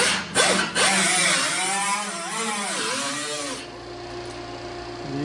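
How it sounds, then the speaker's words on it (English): A power tool grinds the burr off the inside edge of a metal panel, its whine sweeping up and down in pitch for a few seconds before easing into a quieter steady hum. "So I got to get the burr off the inside edge of here."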